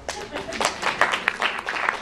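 An audience claps during a stand-up comedy set at a Jewish community center, with a dense, uneven spatter of hand claps across the room and voices mixed in.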